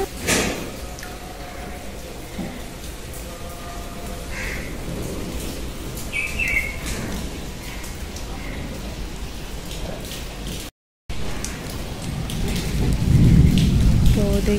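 Steady, dense rainfall hisses throughout, with a brief dropout partway and the downpour swelling louder near the end.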